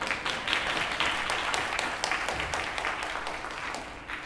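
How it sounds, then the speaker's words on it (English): Audience applause at a YouthBuild opening ceremony for honoring scholars, a steady wash of many hands clapping that holds at an even level throughout, with no voices over it. "You can clap."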